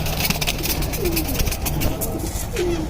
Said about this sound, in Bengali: এই যে এটা আরেকটা আমার সিলভার লাইনের কবুতর।